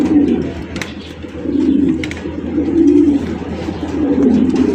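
Pigeons coo steadily at a Bangladeshi pigeon market, a continuous low, rolling murmur of many birds swelling and fading, with a few sharper flutters and clicks above it.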